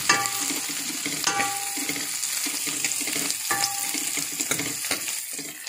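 Onion and chopped green chillies sizzle hard in a pan, a dense bright hiss broken by a few sharp utensil scrapes and clinks as they are stirred, close up and without talk.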